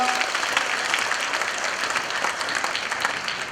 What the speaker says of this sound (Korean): 큰 박수와 함께 마치도록 하겠습니다